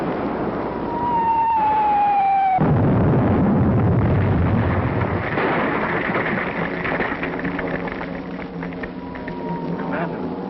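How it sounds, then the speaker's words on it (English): Radio-drama artillery shelling effect: a rumbling explosion bursts in after a falling whistle, followed by sustained roaring rumble and scattered crackling blasts, loud and dense throughout. "Shelling the barracks."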